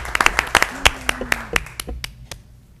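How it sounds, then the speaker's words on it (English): Scattered applause from a small group at a city commission meeting, a handful of close, uneven claps that thin out and fade after a couple of seconds, with a voice speaking over them. "You can go ahead and applaud for this."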